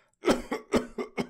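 Five rough, hacking coughs in quick succession, close and loud, with short gaps between bursts and no speech.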